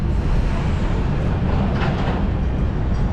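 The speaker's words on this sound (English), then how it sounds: "Here comes the tram." A tram on the Trieste–Opicina line rumbles steadily close by as it arrives, a continuous low mechanical roar with a faint rising squeal partway through.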